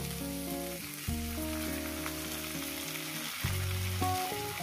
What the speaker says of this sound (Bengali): আরো আমি 5 মিনিট ধরে এটাকে আমি ভেজে নেব।